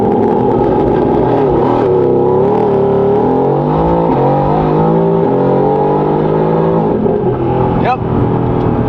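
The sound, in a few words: Mercedes-AMG GT S engine revving during burnout, traction off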